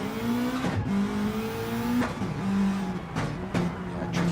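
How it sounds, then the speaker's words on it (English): Rally car in the Catalunya Rallycross course of a racing game, engine droning steadily with pitch dips and rises as the handbrake is yanked for a tight turn on dirt, with brief skid bursts. "it's a great big pull of the handbrake to get around that one"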